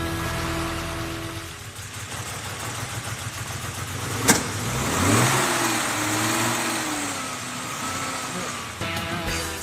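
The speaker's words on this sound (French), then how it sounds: "Ça y est, le moteur vrombit enfin." A vintage Aston Martin DB5 engine, tuned in a restoration workshop, fires up with a sharp start and then revs in rising and falling surges, loud and close with a steady mechanical roar.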